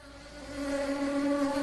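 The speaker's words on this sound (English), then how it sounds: "The bees." Steady insect buzzing with a sustained droning tone that swells slightly louder, close and continuous, with no talking.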